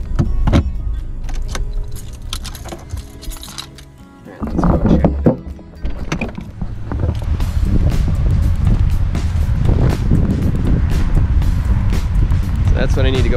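Gusts of wind buffet the microphone in loud, rumbling bursts, mixed with jangling and clattering noises close by.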